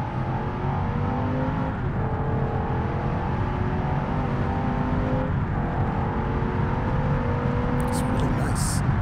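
An ETK sedan driven in BeamNG Drive, its engine holding a steady drone that climbs in pitch through the gears, with clear shift dips, under a speaking voice.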